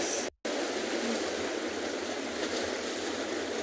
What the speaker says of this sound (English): It's lovely to hear the sound of the ocean as well.